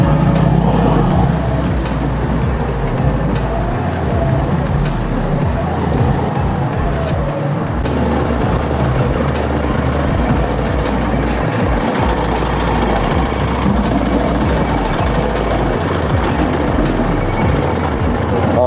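Slow, congested road traffic rolls beneath a flyover on a rough road. Idling and heavy low engine rumble from cars and trucks runs loud and unbroken throughout, with passing vehicles swelling and fading.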